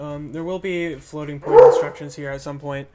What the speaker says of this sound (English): Apologies for the dog in the background.